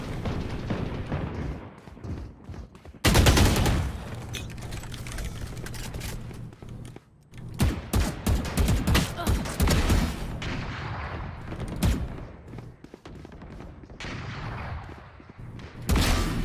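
Bursts of gunfire in the video game Valorant come in loud clusters separated by brief lulls, with sharp individual shots and rapid volleys that stop and start through the stretch.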